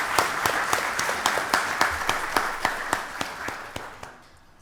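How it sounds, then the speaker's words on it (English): Applause for the PEARL program at a county board of commissioners meeting: a steady patter of clapping from a modest room audience with sharp individual claps standing out, tapering off toward the end. "Let's give the PEARL program a wonderful round of applause."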